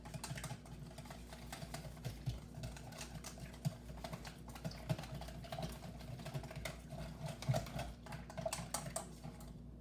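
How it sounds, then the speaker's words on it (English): Lemon doughnut batter, a loose mixture, is whisked in a bowl, giving a steady, fast clatter of scraping taps that runs the whole time at close range with no voices. "Give that a whisk."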